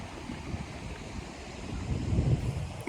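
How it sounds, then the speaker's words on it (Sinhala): Water running along a stream beside a road at Diyathalawa, with steady wind blowing across the microphone, a continuous low rushing that swells slightly toward the end. "මේ වතුර පාරත් එක්ක හුලං හමුන සද්දෙත් එක්ක"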